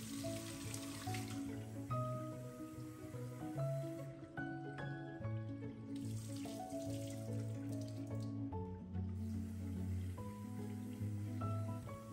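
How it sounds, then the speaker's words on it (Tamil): Rice is rinsed in water, with continuous sloshing and swishing splashes and a running-tap wash close by, steady throughout with brief quieter moments. "250 கிராம்ஸ் அளவுக்கு ரைஸ் எடுத்துகிட்டு இதை வந்து நல்லா வாஷ் பண்ணிவிட்டு"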